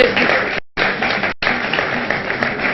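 Studio audience applause on a Ramzan special morning TV show, a dense burst of clapping that cuts out briefly twice, with no talking over it.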